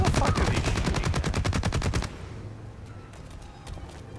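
Automatic gunfire in the video game Blacklight: Retribution, a fast, loud, evenly spaced burst of shots lasting about two seconds, followed by fainter scattered distant shots.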